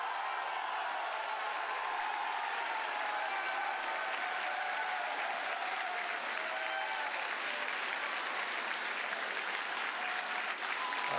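A crowd applauds a SpaceX Starship test flight, steady dense clapping sustained throughout, heard somewhat distant and even without breaks.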